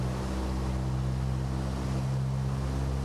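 Piper Warrior II piston engine in MSFS 2020 being run up to 2,000 RPM, a steady, loud droning hum with strong low harmonics that holds constant throughout, with no talk.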